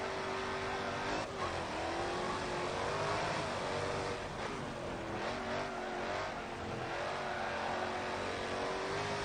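Hypercar engines roar continuously in a sim racing video game qualifier, several cars revving and accelerating together through corners with occasional tire squeal, loud and close throughout.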